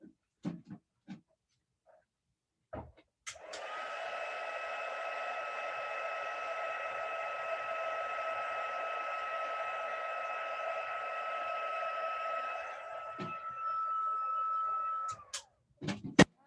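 A handheld embossing heat tool blows hot air over a card in one steady, even whoosh for about twelve seconds, fairly quiet and close, with a few light knocks before it starts and after it stops.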